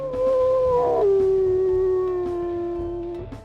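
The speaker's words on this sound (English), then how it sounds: "we'll listen to his howls as well" A wolf howl from the WolfQuest video game rings out loud and close as one long sustained call. It dips in pitch near the start, then holds a steady, slowly falling tone before trailing off.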